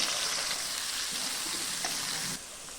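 Chopped onion sizzles and fries in hot mustard oil in a home kitchen pan, a loud, steady crackling hiss close up that drops slightly in level near the end.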